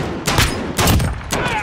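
Gunfire in a Call of Duty Warzone match, three quick bursts of shots, loud and close with short gaps between them.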